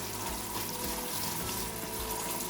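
Red wine vinegar, about a tablespoon or two, splashes into a pot of Instant Pot roast with potatoes, carrots and parsnips, giving a steady, close pouring wash of liquid with no talking.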